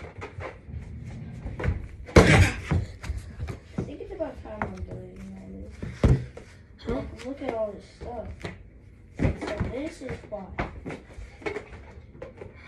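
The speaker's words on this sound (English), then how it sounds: "I'm touching my ceiling light." A ceiling light is touched and rattled, giving several clattering, knocking bursts and one sharp loud clack, scattered between stretches of close indoor talk.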